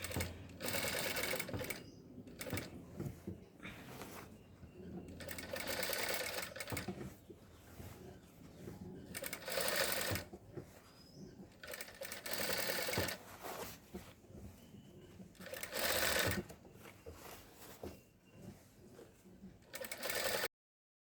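A sewing machine stitches fabric in long, loud mechanical runs that start and stop over and over, with rapid needle rattling between brief pauses and occasional faint handling noise.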